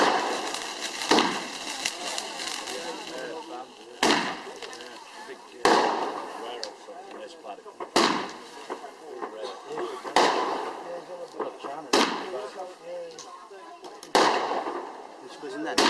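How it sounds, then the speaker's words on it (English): Fireworks go off at a bonfire night party, a string of about nine sharp loud bangs at irregular intervals, each followed by crackling fizz, with people talking between the blasts. "Lighting a firework."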